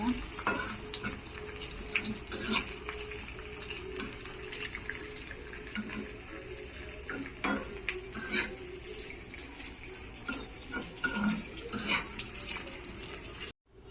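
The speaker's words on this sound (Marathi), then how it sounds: "तर मी हे तव्यातच तळते" Onions sizzle and spatter frying on a flat griddle pan, with intermittent clinks and stirring scrapes over a steady frying hiss.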